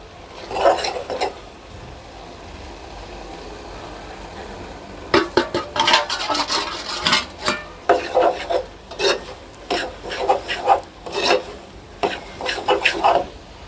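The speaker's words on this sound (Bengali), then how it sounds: "দেখেন সুজিগুলো কি সুন্দর ঘুরাই সিদ্ধ হয়ে আসছে।" Semolina stirred with grated coconut in a pan for sweet semolina laddus, giving repeated scraping and rubbing strokes of a spoon against the pan, a brief burst early, then steady close stirring after a pause.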